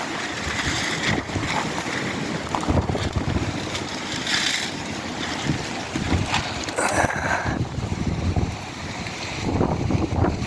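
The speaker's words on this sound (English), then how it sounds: "Man, that wind is cold." Cold wind gusts against the microphone outdoors, producing a continuous rushing, buffeting noise with irregular swells and no speech.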